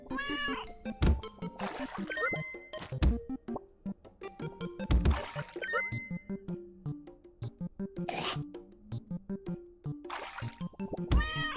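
A cartoonish cat meows repeatedly in the video game Turnip Boy Commits Tax Evasion, bright close calls layered over game music with splashy water effects and bursts of sound.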